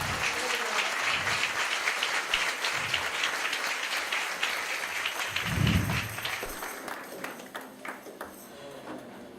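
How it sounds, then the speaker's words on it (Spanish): Church congregation applauding after a prayer, clapping spreading through the room loudly and then thinning out toward the end, with a few scattered claps lingering. "Denle un aplauso a Dios."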